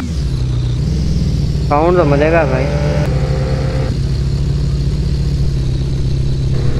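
A car engine in a car dealership video game drones loudly and steadily, with a brief rising rev partway through, while someone talks over it.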